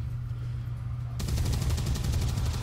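A gunshot in the turn-based strategy game XCOM 2, a sudden loud broadband burst that cuts in about halfway through and holds as a dense crackling roar over a steady low game hum, with no talking.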